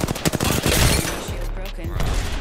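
Incoming game gunfire striking the player: a quick volley of sharp, loud shots and impacts, followed by a lower rumbling tail, with a voice speaking over it.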